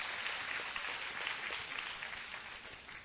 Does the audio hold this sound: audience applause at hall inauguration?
yes